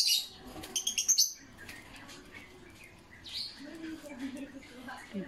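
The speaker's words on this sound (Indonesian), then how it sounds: "Burung." A small bird gives a quick series of bright, high chirps near the start. Softer rustling and faint voices follow in an indoor home setting.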